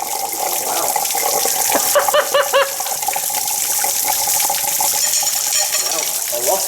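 Water gushing and splashing as it drains out of a Dennis Dart bus during a water pump replacement, a continuous loud pour with trickling and dripping, while voices talk faintly in the background.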